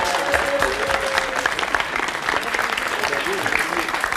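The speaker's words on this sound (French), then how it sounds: "On peut l'applaudir très fort, Fabienne" Loud, dense applause from a television studio audience for Fabienne, a woman bodybuilder, continuous clapping that stays strong throughout with faint voices mixed underneath.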